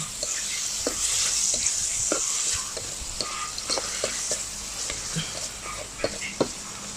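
Squid stir-fries in a hot pan, with a steady loud sizzle under repeated sharp clicks and scrapes of the spatula throughout, close and continuous.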